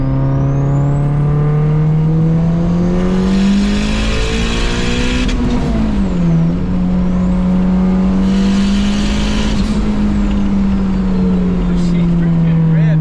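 A turbocharged Evo wagon engine revs hard under boost, loud and close, its tone climbing and dipping through sustained pulls with a steady, gravelly roar.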